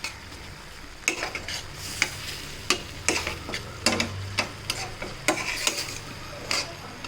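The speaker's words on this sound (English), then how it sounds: "we can probably add a few sprigs of fresh curry leaves and give a good mix" Egg and peas masala gravy with fresh curry leaves being stirred in a pan, a series of sharp spoon clinks and scrapes over a low simmering sizzle.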